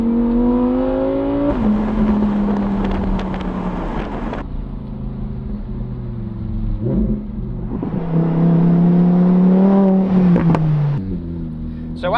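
A Lamborghini Huracan EVO RWD sports car revs hard through repeated rising and falling engine pulls and gear changes, loud and close, with a brief pause in between.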